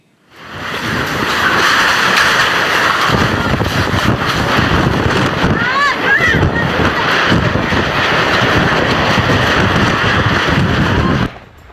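Strong whirlwind storm winds with heavy rain roar steadily near the microphone in Subang, West Java, a loud continuous rushing buffeting that lasts throughout before cutting off.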